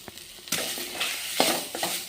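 Garlic cloves and cumin seeds roast in a little oil in a pan for a ridge gourd chutney, a soft steady sizzle broken by a few light scrapes and taps of a spoon.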